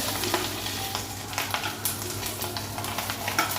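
Fish roe frying in a pan for a Bengali fish egg curry gives a steady, close sizzle with scattered crackles and a few faint utensil clicks throughout.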